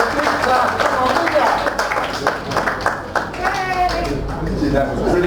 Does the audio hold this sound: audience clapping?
yes